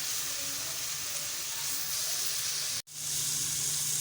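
Beef frying in a pot for nihari gives a steady, close, even sizzle that cuts out for a brief moment near the end, then picks straight back up.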